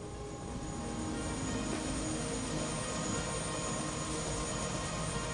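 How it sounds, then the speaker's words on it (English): Helicopter in the video game Prey, a continuous broad rotor and engine roar holding steady and fairly loud throughout, with no voices over it. "A helicopter."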